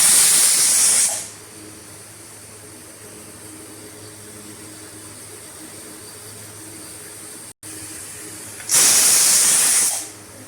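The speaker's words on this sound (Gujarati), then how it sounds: "પછી કુકર બંધ કરીને 2 થી 3 વિસલ વગાડો." A pressure cooker on the stove lets off loud bursts of hissing steam while cooking a winter valor bean and tomato curry, two strong blasts at start and end separated by a low steady background hum.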